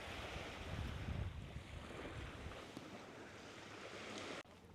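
Winter surf breaking on a beach on Vancouver Island, a steady broad wash of waves with gusty wind buffeting the microphone, continuous and fairly close, no voices.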